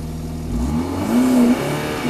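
A BMW car engine revs briefly, a mid-pitched hum rising to a louder sustained rev near the middle before easing back, heard close with no talk.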